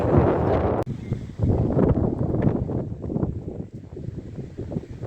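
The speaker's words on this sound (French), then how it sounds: "J'espère que vous m'entendez avec le vent." Gusty wind buffets the microphone on a hiking trail in the Luberon, producing heavy low rumbling that surges and dips in uneven bursts for several seconds.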